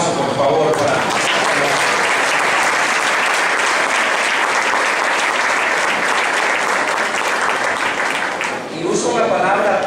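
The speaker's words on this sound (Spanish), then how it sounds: "Un aplauso, por favor" A crowd breaks into loud, sustained clapping that fills the room for several seconds before a voice returns near the end.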